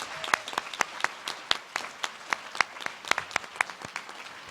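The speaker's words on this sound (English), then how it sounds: "So please give them a round of applause." Light, sparse applause from a small audience at a Jewish community federation gathering: a handful of distinct, fairly close hand claps tapping out an uneven rhythm over a few seconds, no voices.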